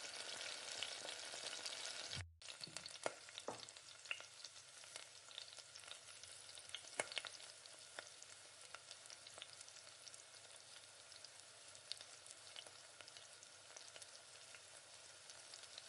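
Masala vada sizzle steadily in hot oil in a pan, a dense, continuous frying hiss with small crackles, briefly interrupted near the start by a short pause and a clatter as the vada are turned.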